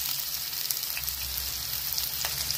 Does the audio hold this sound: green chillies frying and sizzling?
yes